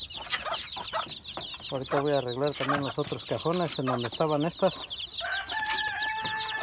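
Hens cluck near a backyard coop holding chicks on fresh leaves, with a rooster crowing in among them, while someone speaks over the birds for most of the stretch.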